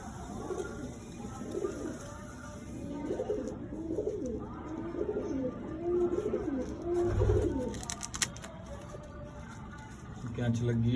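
Pigeons of a long-kept flying breed coo softly on a rooftop in a low, rolling murmur beneath someone speaking, with brief rustles and flutters near the end.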